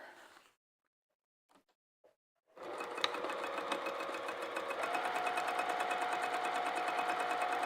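A sewing machine stitches a fabric pouch, starting after a few light clicks and then running steadily and close up in a fast, even rhythm that picks up slightly partway through, with no talking.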